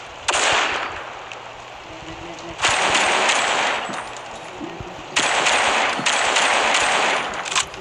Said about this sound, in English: He can shoot sniper with an AK.